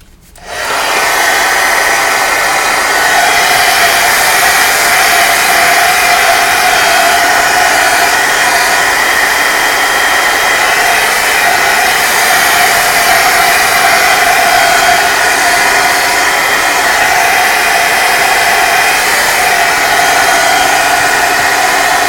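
A hair dryer blows on a piece of artwork to dry it quickly, a loud, steady whirring hiss that starts abruptly and runs unbroken for over twenty seconds with no voices.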